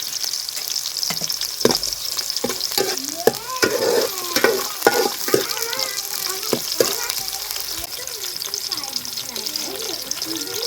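Green chillies frying in hot oil for a masala brinjal curry, with a bright continuous sizzle and spatter, sharp scraping stirs of a spoon in the pan, and a voice faintly in the background.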